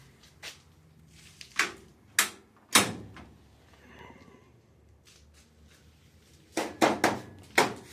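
A door on a 1975 VW Super Beetle is worked and shut, with a series of sharp metallic thunks and clunks, some in quick clusters, close and loud, no talking.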